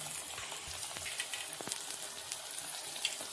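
Flattened dough snacks sizzle and fry in hot oil, a steady close crackling hiss with small pops, heard alone without voices.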